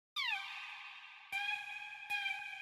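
A dry synth lead raised an octave plays three high, bright sustained notes, the first sliding down in pitch, each starting with a sharp attack, heard alone without effects.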